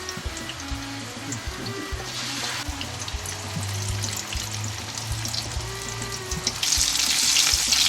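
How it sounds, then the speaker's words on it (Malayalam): Sukhiyan, Kerala-style dumplings of boiled green gram dipped in batter, sizzle and crackle loudly in a pan of hot oil, a steady close frying hiss with a brighter burst of spitting toward the end. "എണ്ണയിലേക്ക്, തിളച്ച എണ്ണയിലേക്ക് നമുക്ക് മാറ്റുക."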